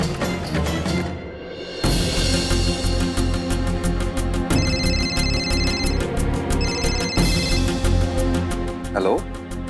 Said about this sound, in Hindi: पिंकी, तेरे जीजा जी का फोन था।